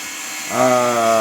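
A drill from house construction next door whines into a loud, steady pitched drone that starts suddenly midway over a low background hum.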